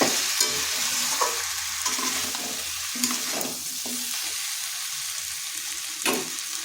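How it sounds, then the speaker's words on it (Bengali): A fish head being fried and stirred with spices in a pan, a continuous sizzle with repeated scraping strokes of the spoon and occasional clinks against the pan. "এটাকেও মশলার সাথে কষিয়ে নিচ্ছি যাতে মাছের মাথার ভিতরে মশলাটা ভালোভাবে ঢুকে যায়।"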